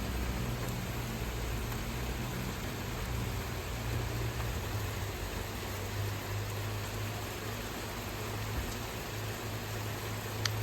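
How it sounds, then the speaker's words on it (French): Steady rain falling outdoors on a spring morning, a continuous even hiss with a faint low rumble beneath, quiet and unbroken throughout. "il y a une belle pluie là."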